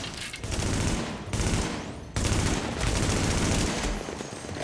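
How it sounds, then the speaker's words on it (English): Rapid automatic gunfire in the shooter game The Division, loud sustained bursts of shots broken by two brief pauses, with no talking over it. "Let's keep firing upon the engineer here."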